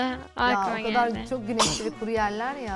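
A single sharp sneeze bursts out midway through ongoing conversational speech, close and fairly loud, with talking continuing before and after it.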